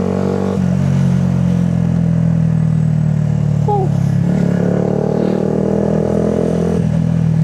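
A motorcycle idles loudly at a standstill with a steady low rumble, then gives a brief throttle blip and rev partway through before settling back, close and dominant with no voices.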